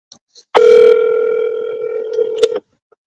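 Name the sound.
telephone dialing and ringing while returning phone calls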